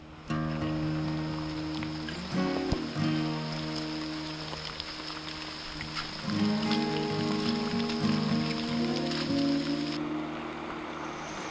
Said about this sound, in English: walking through the forest with the sounds of the rain all around